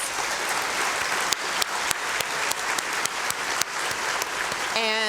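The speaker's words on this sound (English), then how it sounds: "and a round of applause for them," Sustained crowd applause fills a large hall at an Indy 500 victory celebration, steady and dense with sharp claps and cheers throughout, then tapering near the end as a tonal sound enters.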